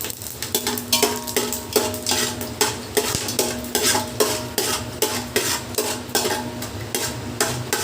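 Whole spices fry in hot peanut oil for a quail biryani. A utensil knocks against the pot in a rapid, repeated stirring rhythm over a continuous sizzle, close up and with no voices.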